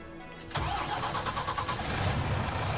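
A truck engine in the farming game Landwirtschafts-Simulator 19 cranks and fires up, then settles into a steady, close mid-pitched idle that runs to the end, with no voices.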